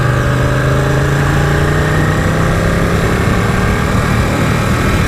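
Ducati 899 Panigale motorcycle engine running at a steady, loud idle with a constant low rumble and no speech, on a basically dry day out riding.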